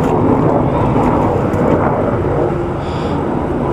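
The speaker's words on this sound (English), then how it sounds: "Nothing like a morning military helicopter." A military helicopter passing overhead in the morning makes a loud, continuous low rumble that holds steady and then eases slightly toward the end.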